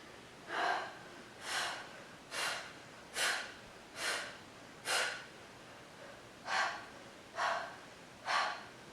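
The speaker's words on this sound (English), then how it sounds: "So this is faster breathing." Fast breathing during a pilates exercise: nine sharp nasal exhales at a steady, brisk rhythm with a brief pause near the middle, close and fairly faint against quiet room tone.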